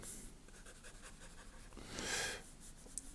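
Soft scratching of a pencil drawing a self-portrait on paper, quiet and close, with short strokes and one longer, louder scribble; no voices.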